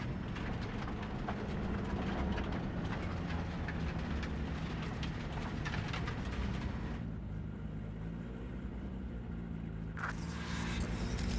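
A train in Cyberpunk 2077 rolls along the rails with a loud, continuous rumble and clatter; the high rattle drops away partway through, then briefly returns near the end.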